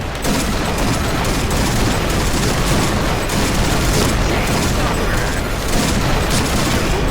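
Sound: Barrett sniper rifle gunshots in Point Blank video game

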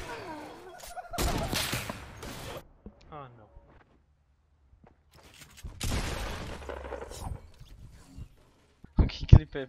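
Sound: gunfire in a video game

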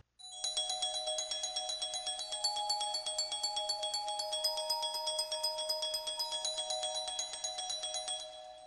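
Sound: glockenspiel groove sample played in 16th notes

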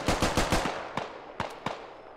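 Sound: gunfire in Squad video game

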